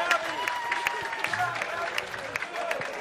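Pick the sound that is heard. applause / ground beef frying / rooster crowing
applause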